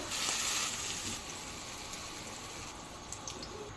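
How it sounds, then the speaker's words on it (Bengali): Onion and garlic frying in hot oil for a mashed dish, a loud, close, continuous sizzle that is strongest at first and then settles, with a few faint clicks. "আমি ভর্তার জন্য পেঁয়াজ রসুন ভেজে নিচ্ছি"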